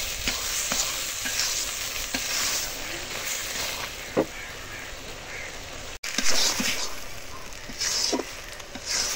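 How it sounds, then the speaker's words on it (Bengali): Moong dal and ash gourd curry bubbles and sizzles in a pan while being stirred, a continuous frying hiss broken by occasional scraping and clinks, no speech. "এখন কিছুক্ষণ রান্না করব, তারপরে নামিয়ে নেব।"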